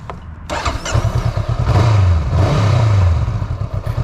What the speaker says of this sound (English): Honda have managed to again get quite a nice exhaust note out of what is a small 471cc parallel twin